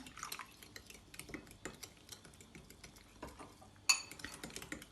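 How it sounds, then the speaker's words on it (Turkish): A fork taps and scrapes rhythmically against a bowl while stirring a thin batter of flour, salt, baking soda and water, with quick repeated clinks and one sharper knock, close and fairly quiet. "İyice karıştırıp çatalla çırpabilirsiniz"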